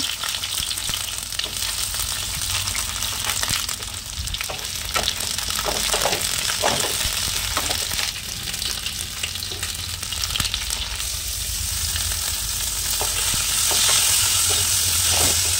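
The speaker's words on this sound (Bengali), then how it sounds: "সবজির মধ্যে আলু আর ফুলকপিটা একটু ভেজে নেব।" Potato and cauliflower pieces fry in hot oil with a dense, continuous sizzle, close and fairly loud, with occasional pops and scraping over the whole stretch.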